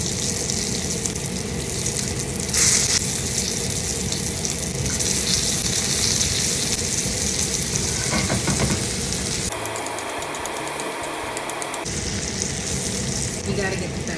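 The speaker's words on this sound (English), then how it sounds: "I'm gonna toast this in the same skillet." Bread toasting in a skillet after steak for a steak-and-egg sandwich gives off a loud, steady sizzle that runs throughout, with a short quieter break near the end.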